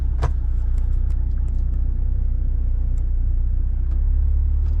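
A Dongfeng truck's engine drones steadily while driving, a constant low rumble with road noise and a few light rattles from the cab, loud and close throughout with no talking.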